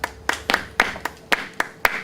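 Crisp hand claps at a flamenco workshop, eight sharp strikes in a fairly steady but slightly uneven rhythm, close and dry with short gaps between them.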